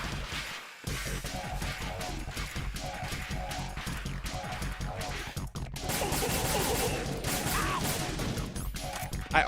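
Metal Gear Solid gameplay with repeated gunfire: rapid shots and bursts crowd the clip over a looping game soundtrack, with mechanical clatter and impacts, loud and continuous throughout.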